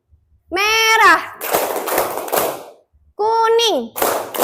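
A group of children clap hands in a classroom colour-call game, their claps bunching into dense bursts after a single voice calls out each cue; the pattern repeats twice.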